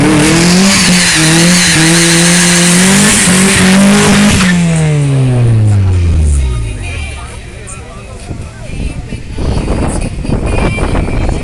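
Drag race cars, a Volvo-engined car against a BMW, roar hard down the strip with a rising engine note and squealing tires, loud and close, then the sound fades and a second car surges in, with a voice over it.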